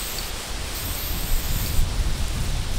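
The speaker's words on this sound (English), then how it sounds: "That is pretty weak spray paint." A steady hiss of spray paint, broadband and continuous, with faint rustling under it and no voices.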